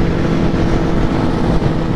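Kawasaki Z800 motorcycle engine rumbling steadily and loudly while riding, a continuous low roar with wind noise and no voices.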